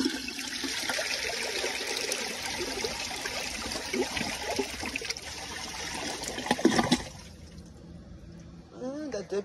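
Flush of a 2002 Sanitarios Maracay toilet, a rushing swirl of water that drains off into a gurgling trickle and refill sounds, heard close up with someone talking over it.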